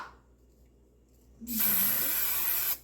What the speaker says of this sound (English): Spray the both of these.